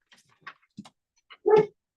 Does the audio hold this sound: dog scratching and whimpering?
yes